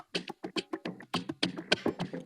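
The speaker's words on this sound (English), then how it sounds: "I added this percussion loop from Afrobeat production sheet." Busy Afrobeat percussion loop from a production sample pack, dense shakers, clicks and hand-drum hits rolling in a quick syncopated groove, bright and close with no gaps of silence.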